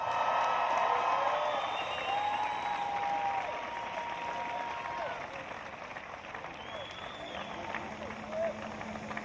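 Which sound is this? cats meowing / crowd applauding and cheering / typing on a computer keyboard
crowd applauding and cheering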